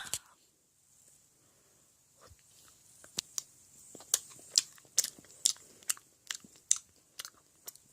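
Someone eating red bean shaved ice, with close, crisp crunching bites and chewing that grow louder and more regular in the second half, with a brief exclamation at the start.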